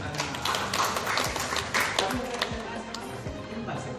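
An audience of students at a journalism training session at a Palembang high school applauds in a steady, moderately loud patter of many hands, with some voices and scattered thumps mixed underneath.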